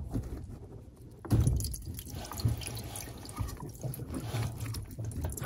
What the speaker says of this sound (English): it's going to leak some water